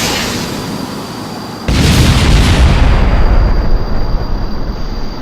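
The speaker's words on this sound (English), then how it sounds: "They're just kind of basic, really basic missiles I'm firing off right now." Basic missiles launch from an aircraft in Kerbal Space Program, a sudden loud whooshing roar kicking in and sustaining as a steady rocket rush over the game's background hum.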